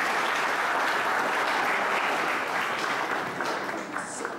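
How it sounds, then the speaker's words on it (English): An audience at a talk on universal virtue and protection applauds to welcome a Buddhist monk. The clapping is a dense, steady and fairly loud crowd sound that thins slightly near the end. "Give him a round of applause and welcome."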